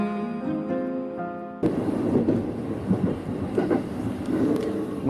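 A train in Tokyo, Japan: a tonal hum or chime gives way to a sudden loud rumble as the train passes, with rattling and clanks continuing to the end.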